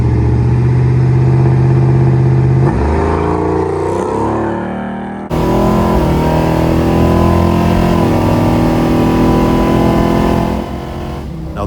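A nitrous-fed Chevrolet Camaro on hard tires roars close and loud through a street drag pass, with a short shift break about midway before it pulls hard again and fades slightly at the end.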